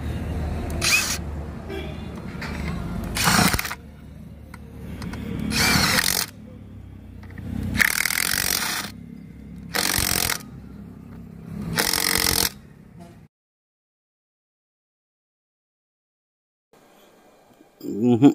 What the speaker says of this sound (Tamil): அடுத்ததாக மிஷினில் டைட் வச்சுட்டு அதுக்கு மேலே டைட் வைக்க முடியுதான்னு பார்ப்போம்.